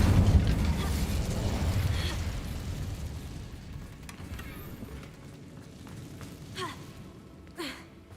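An Incendio fire spell cast in a video game, starting as a rushing, fiery burst that decays into a low rumble, followed by a few faint scattered effect sounds.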